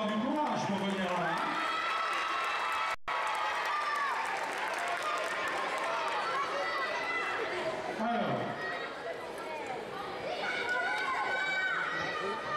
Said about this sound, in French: On applaudit Diego parce qu'il faut avoir du courage pour venir là.